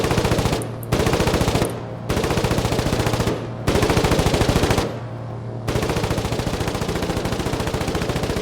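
Rapid bursts of machine-gun fire from a plane's defensive gunner in the war game Foxhole, several loud sustained volleys separated by short pauses, close and alone without talk.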